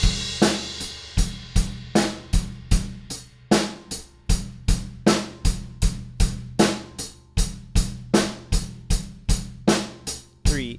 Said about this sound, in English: We're just adding one bass drum on the and of 1 now.